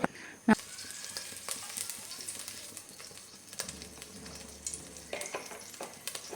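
Sunflower or coconut oil heating in a pan for a lemon pickle, a soft steady sizzle close by, opened by one sharp clack and sprinkled with faint ticks and crackles.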